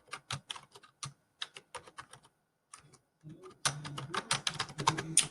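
Close, crisp keystrokes on a computer keyboard come in quick irregular clusters as list lines are typed into a presentation slide, with brief pauses between items and busier clicking near the end.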